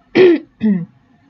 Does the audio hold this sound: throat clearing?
yes